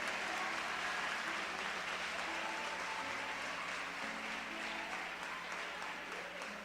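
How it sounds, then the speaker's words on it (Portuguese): Congregation applause in a church, a steady, fairly faint wash of many hands clapping together that continues evenly for several seconds and eases slightly toward the end. "Se esse aplauso é para Jesus, ele pode ser mais forte, irmão."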